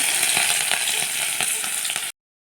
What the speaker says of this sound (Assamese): একেখিনি তেলতে এতিয়া পিঁয়াজ দি দিছোঁ